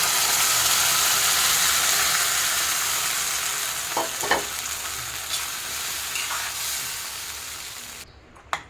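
A rice mixture for kheer fries in a pan with a strong, continuous sizzle that gradually softens, broken by a few light scraping stirs near the end.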